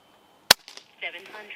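A single sharp crack from an Umarex Notos .22 regulated PCP micro-carbine firing an H&N 18 grain pellet, followed by faint handling clicks.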